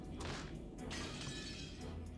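A glass window smashed with an antique chair in the visual novel Umineko no Naku Koro ni, a couple of sharp shattering crashes with a tinkling spray of broken glass, fairly faint and alone.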